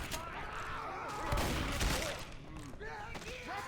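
Gunfire from the zombie shooter Left 4 Dead 2 in a versus match, a dense run of shots under constant overlapping voices, with heavier bursts near the middle.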